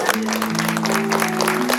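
An audience at a retirement function claps together in a brief, dense burst of applause that holds steady throughout, with a low sustained tone humming underneath.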